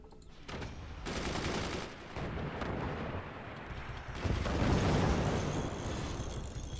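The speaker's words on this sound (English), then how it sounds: "those are more missiles of acceptable speed" A barrage of missiles launches in the game Forts, a dense rumbling fusillade of repeated firing blasts that swells louder toward the end, with no talking.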